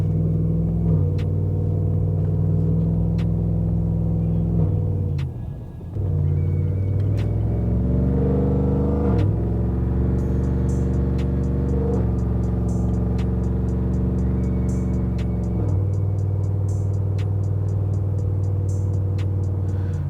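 A supercharged, cammed 2014 GMC Sierra 5.3 pickup engine revs and accelerates through several gear shifts, its pitch climbing and dropping, loud and close with a steady heavy drone.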